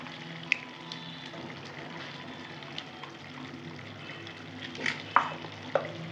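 Cucumber and prawn curry being stirred in a pan, with the cucumber releasing water along with cumin, ginger and chillies, heard as a soft steady simmer and wet scraping with a few sharp utensil clinks near the end, close and alone.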